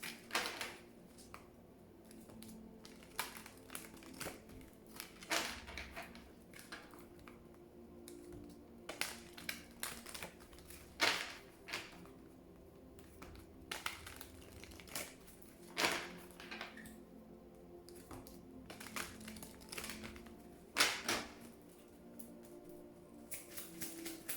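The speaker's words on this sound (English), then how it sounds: "while I shuffle the cards" Quiet, repeated riffling and soft slaps of cards being shuffled, in irregular bursts over a faint background hum.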